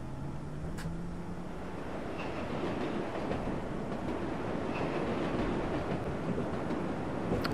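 Subway train in the World of Subways 4 video game pulling away from a station and gathering speed, a steady close rumble of motors and wheels with faint rail clatter and a rising whine, no talking.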